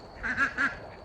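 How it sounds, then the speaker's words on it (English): Ducks on a homestead in cold weather give three quick nasal quacks in a short burst, close and moderately loud over quiet background. "The cold weather is making the quackers a little frisky."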